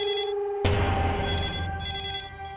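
A landline telephone rings with a steady electronic tone at a family engagement-day gathering, the ring carrying on loud and continuous while a low background hum sits beneath it.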